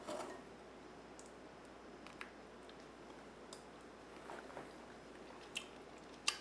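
Someone bites and chews fresh honeycomb straight from the hive, a few quiet, close, sticky squishing and crunching sounds spread over a faint background.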